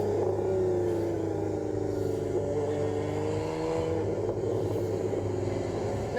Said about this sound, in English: I've got plenty of intake noise coming from the engine behind me